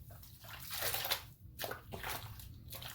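A human hair ponytail wig is washed by hand in water, with quiet, uneven sloshing and squishing bursts separated by short pauses.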